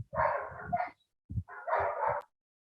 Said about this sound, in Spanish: tengo aquí un perrito muy bravo